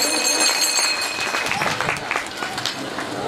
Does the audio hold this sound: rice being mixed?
no